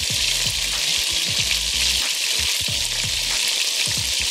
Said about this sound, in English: our meat has been browning about 5 to 6 minutes by now